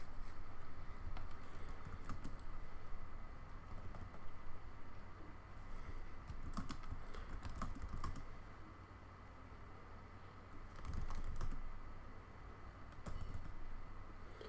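Scattered keystrokes on a computer keyboard, faint and irregular, come in short clusters over a steady background hum as a task name is typed into an Ansible playbook.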